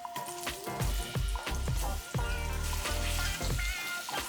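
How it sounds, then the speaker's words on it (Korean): Onions sautéing in oil in a pot for curry, a close hiss of frying broken by repeated low clunking stirs and tonal ringing from the pot, with no talking. "이제 어느 정도 열이 올라올 때 양파 넣어서 볶아주면 되거든요"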